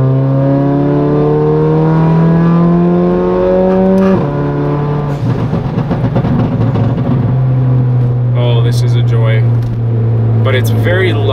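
Loud Mercedes CLA 45 AMG wide-body with a dual-clutch gearbox, engine and exhaust droning steadily while driving, pitch rising through gears with shifts and crackles near and continuous.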